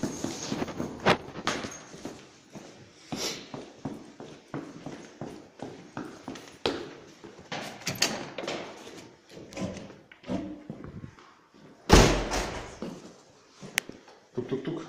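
Someone knocks on a closed door on the second floor of a building, with sharp raps scattered among footsteps and shuffling in a hallway.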